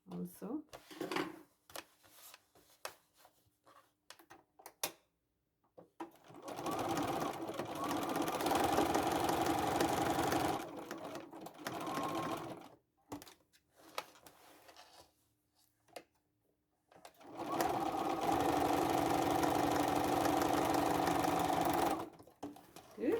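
A sewing machine zigzag-stitches a red velvet tote bag in two long steady runs of rapid mechanical chatter, with quiet pauses and soft handling noises in between.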